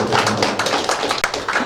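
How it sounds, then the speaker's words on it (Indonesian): A few people clap hands in a small classroom or training session, brisk uneven claps close by, short and without talk. "berarti Pak Sudiano dan Bu Desi tepuk tangan"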